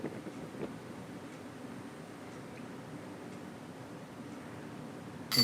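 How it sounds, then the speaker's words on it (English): Wind gusting across an open outdoor tournament course, flags whipping nearby, makes a steady rushing roar with rumble against the microphone, rising into a louder gust at the very end. No one speaks. "Hear the wind whipping."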